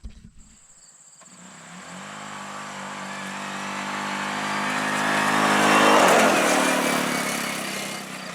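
A Yamaha Raging Rhino side-by-side launches in a drag run, its engine climbing from a low idle into a rising, revving roar that peaks loudly near the end before easing slightly, with no talking.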